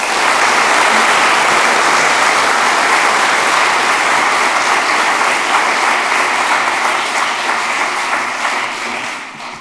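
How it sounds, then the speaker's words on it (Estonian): Audience at an Estonian IT College graduation ceremony applauding lecturers and practitioners, a loud, dense, sustained clapping that holds steady for nearly ten seconds before tapering off at the very end. "Ma palun teilt aplausi Eesti IT-kolledži õppejõududele ja õppetöös osalenud sektori praktikutele"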